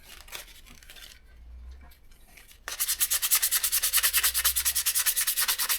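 Rust being rubbed off the braking surfaces of a Yamaha XS 250 motorcycle: soft scrubbing at first, then a brisk rhythmic back-and-forth abrasive rasping, close and steady.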